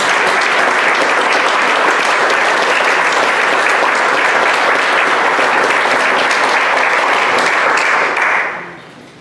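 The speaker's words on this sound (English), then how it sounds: "Would you give them a round of applause?" Loud, dense audience applause at a donor appreciation event, continuous clapping from a full room for about eight seconds before fading out quickly.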